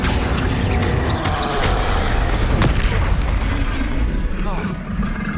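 Loud, dense blasts of the Confringo explosive spell in Hogwarts Legacy, booming continuously through a busy battle with heavy low rumble and crackling impacts.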